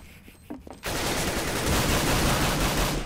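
Loud, sustained automatic AK rifle fire erupts in a Counter-Strike: Global Offensive match, a dense rattling burst that follows a quieter moment and keeps going to the end.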